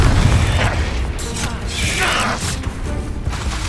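Confringo fire spells cast amid combat in the video game Hogwarts Legacy, a loud churning mix of bursts, mechanical clatter and a whooshing fiery sweep in the middle, with a voice calling out between the impacts.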